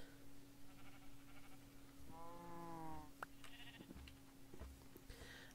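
A sheep in the Minecraft video game lets out a single wavering bleat midway, faint against quiet game background sounds.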